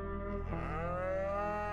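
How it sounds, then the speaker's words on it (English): A cow moos in the Cowboy Life Simulator game, one long drawn-out low bellow that rises and wavers, fairly close and alone without talk. "This cow's not tame yet."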